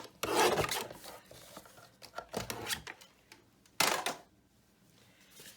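Paper pieces for a patriotic double waterfall mini album are trimmed with a rasping, scraping cut in three short bursts, the middle one gentler, with quiet pauses between and no talk.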